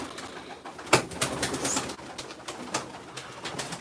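Pigeons cooing close by in soft, low murmurs, mixed with scattered rustling and a brief flutter of movement, no talking.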